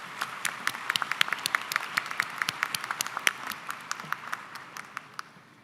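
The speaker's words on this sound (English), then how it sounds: "I want to give them applause." Applause at a high school commencement ceremony for the Northwood graduating class, heard as scattered, distinct claps from a modest number of people, sharp and irregular, ringing out in a large hall.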